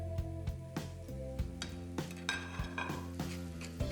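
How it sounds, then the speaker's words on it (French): Mushrooms sautéing in a knob of butter in a frying pan, with a soft sizzle under repeated sharp clinks and scrapes of a utensil against the pan, close by and fairly quiet. "on les fait sauter un petit peu à la poêle"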